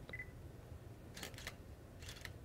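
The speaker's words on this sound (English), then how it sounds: "if I lightly click the shutter button" A camera's shutter button is pressed lightly, giving two quick, crisp mechanical click bursts about a second apart, close by over a low hum with no talking.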